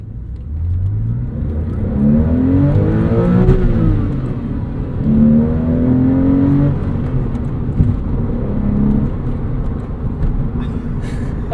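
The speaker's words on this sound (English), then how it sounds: "Metzger engine howl." A 2002 Porsche 911 with the Metzger engine revs hard, its pitch sweeping up and falling back in two strong pulls. The howl is loud and close, with a steady mechanical whir between the surges.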